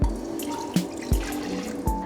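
Water being poured into a heated pan on a stove, heard as a running, splashing pour with a few sharp knocks and drips, close and fairly loud, with no voices.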